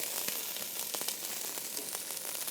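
Artichokes and onion sizzle in hot olive oil with a close, steady crackling hiss dotted with small pops, heard alone.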